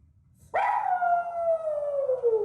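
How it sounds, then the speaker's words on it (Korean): A dog howling indoors while alone after its owners leave for work: one long, loud howl that starts suddenly and slowly falls in pitch, close and clear, with no talk. "하울링까지 하는데요"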